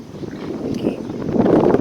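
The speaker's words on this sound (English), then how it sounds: "So windy." Wind rumbles against the microphone in a low, building gust, growing louder toward the end.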